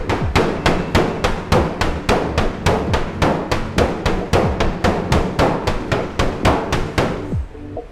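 Hammer blows rain down on a car body coated in Royal Nano Ceramic, about twenty-five sharp, evenly spaced metallic knocks in quick succession, loud and close, with no talking.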